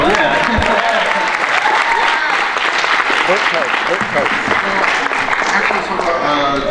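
Convention audience at a Power Rangers Samurai Q&A panel bursting into loud, sustained applause that fills the whole stretch, a crowd clapping densely with voices mixed in.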